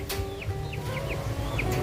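Fowl in a backyard duck pen make short chirping and clucking calls, several quick bird notes over a steady low background hum.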